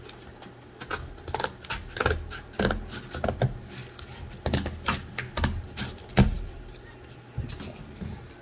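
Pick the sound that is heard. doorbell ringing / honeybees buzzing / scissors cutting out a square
scissors cutting out a square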